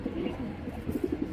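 Racing pigeons at a pigeon farm coo softly in a short, low, murmuring run of repeated throaty calls, close by and fairly quiet.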